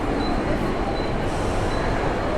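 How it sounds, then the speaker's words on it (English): A local train in Mumbai, India, gives off a continuous rumble of wheels on rails with faint high squeals and a steady, loud carriage roar. "First train in India."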